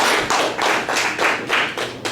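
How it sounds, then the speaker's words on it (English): An indoor audience at a community gathering applauds with continuous, dense clapping in gently pulsing waves, close and fairly loud, with no talk over it. "let's give a round of applause"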